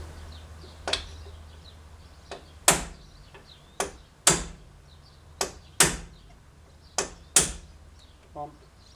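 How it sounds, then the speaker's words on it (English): Brake caliper pins hammered out: sharp metallic knocks spaced about a second apart, about eight in all, close and loud against a quiet workshop background. "Knock these pins out."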